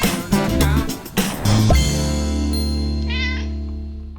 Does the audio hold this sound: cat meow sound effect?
yes